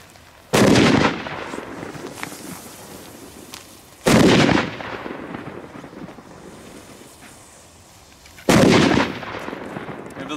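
Three loud, sharp firecracker blasts go off outdoors a few seconds apart, each decaying into rumble over windy background noise.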